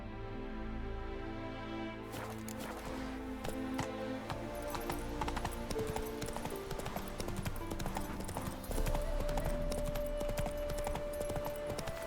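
Roach, the horse in The Witcher 3: Wild Hunt – Hearts of Stone, gallops with rapid, steady hoofbeats over a continuous backing of game music.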